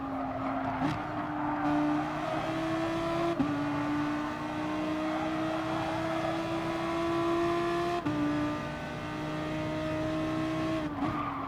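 Gr.3 race cars roar around Spa-Francorchamps in Gran Turismo Sport, a continuous close engine drone rising in pitch with abrupt gear-change drops and faint tyre squeal.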